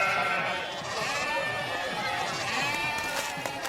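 A goat bleats in a movie scene, its wavering cries mixed with overlapping talk and background noise throughout, at a steady moderate level.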